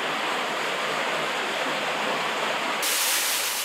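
An underground waterfall in High Pasture Cave on Skye, a steady, loud broadband rush of falling water that continues without a break and grows slightly brighter near the end.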